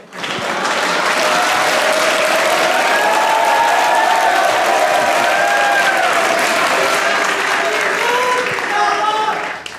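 Steady, dense applause from a studio audience at a comedy talk show, loud and sustained for the full stretch, with faint cheering and voices mixed in beneath the clapping.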